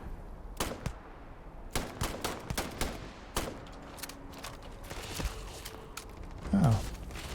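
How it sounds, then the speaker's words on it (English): Scattered gunshots ring out from enemies taking shots in the sci-fi game Starfield, sharp isolated cracks at irregular intervals over a quiet ambient bed, with one brief descending tone near the end. "these guys have been taking pot shots at us"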